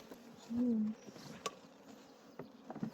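A honeybee buzzes loudly and close for about half a second beside winter beehives being checked, followed by fainter scattered insect hum and small knocks in a quiet outdoor setting.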